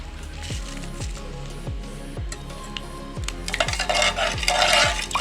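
A spoon clinks rhythmically against a pot while sugar and coffee are stirred into hot milk, about ten evenly spaced taps, then a louder swishing stir toward the end.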